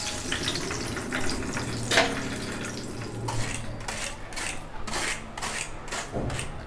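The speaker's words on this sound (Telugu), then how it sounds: "ఇప్పుడు మన కరివేపాకండి, చాలా జాగ్రత్తగా వేగించుకోండి దీన్ని." Curry leaves fry in hot oil for a snack mixture, giving a steady close sizzle with scraping and stirring strokes against the pan throughout.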